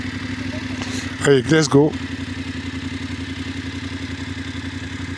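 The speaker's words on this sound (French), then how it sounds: "On est parti avec une moto ce matin." A motorcycle idles close by with a steady low mid-pitched engine putter, while a voice speaks briefly over it near the start.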